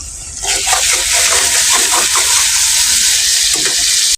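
Green chili paste hitting hot oil in a pan for a prawn kofta curry, bursting into a loud, continuous hissing sizzle that holds steady before cutting off abruptly.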